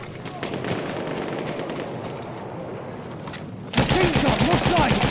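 Rapid machine gun fire in the World War I shooter Battlefield 1, a dense rattling burst that runs steadily and grows louder and nearer in the last second, with battlefield noise and some talk underneath.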